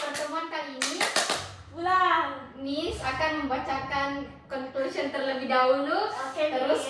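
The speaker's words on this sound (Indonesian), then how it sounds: "tepuk tangan untuk kalian semua" A class of children claps together during an English writing lesson, a quick burst of sharp hand claps at the start followed by excited children's voices and cheering that dominate the rest.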